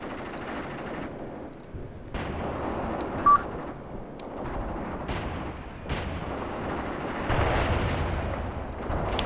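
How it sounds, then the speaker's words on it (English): Anti-tank guns in Graviteam Tactics firing at a distant T-34 tank, a series of booming shots and impacts spaced every couple of seconds over steady battlefield rumble, with no talking. "Some of my anti-tank guns are still trying to hit the T-34 here"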